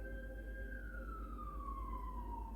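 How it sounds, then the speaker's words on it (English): A distant siren wails with a single long tone that slowly falls in pitch, over a low steady rumble. "You hear the sirens?"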